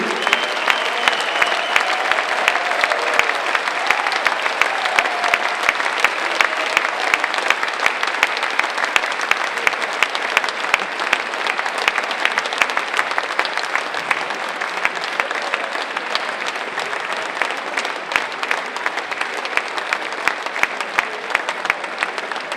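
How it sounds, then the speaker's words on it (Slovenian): Sustained audience applause fills the hall at a charity concert, dense even clapping from a large crowd that carries on without a break. "dajmo še en aplavz"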